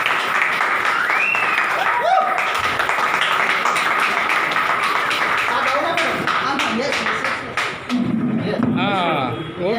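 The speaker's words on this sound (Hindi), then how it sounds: "सबके लिए जबरदस्त तालियों की" Loud, sustained applause from the crowd at the opening of the Atomy Faridabad AtoZ Education Center, steady clapping filling the whole stretch with voices and shouts mixed in.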